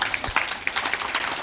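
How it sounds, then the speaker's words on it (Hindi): A crowd at a Hariyali Teej Queen celebration at Songeshwar Mahadev, Balawala, claps for the GK quiz winners, a steady dense patter of many hands, moderately loud and continuous throughout. "उनके लिए एक बार जोरदार ताली।"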